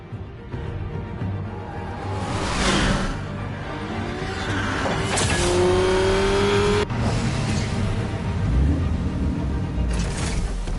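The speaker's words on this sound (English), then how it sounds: "This car drives faster than possible." A car in the Batman Telltale video game drives fast. The engine holds a loud, steady drone with rising revs and whooshing passes, and a brief tire squeal partway through.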